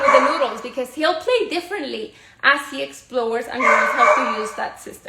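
A puppy barks and yips in the background while someone talks continuously over it, the dog's short high calls partly masked by her speech.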